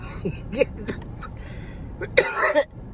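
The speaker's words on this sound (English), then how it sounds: "I've been coughing off and on all day." A person coughs a few times, short harsh bursts at the start and a stronger cough near the end, close to the microphone.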